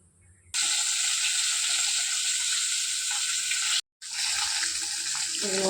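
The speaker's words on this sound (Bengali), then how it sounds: "কাতলা মাছটাকে ভেজে নেব।" Pieces of katla fish sizzle loudly in hot oil, a steady bright hissing crackle that starts abruptly, cuts out briefly, then resumes just as strongly.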